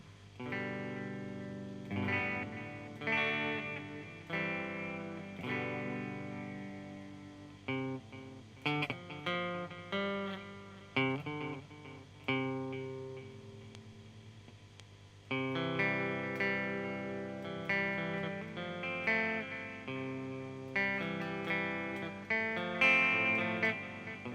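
Electric guitar run through an EHX Oceans 11 reverb pedal set to echo mode, playing plucked notes and chords that ring out with repeating trails and a shimmering wash, steady and fairly loud with no talking.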